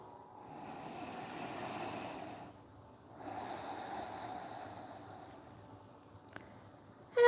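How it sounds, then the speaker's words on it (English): Slow, steady nasal breathing during a yoga session, two long soft breaths separated by a brief pause, close and quiet, with a faint click near the end. "Lifting your chest, breathing through your nose."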